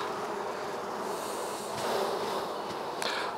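Honey bees drone steadily inside an open top bar hive during an inspection, a dense continuous buzz heard up close with a few brief handling knocks.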